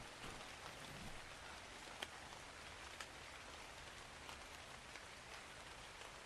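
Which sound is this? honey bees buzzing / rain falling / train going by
rain falling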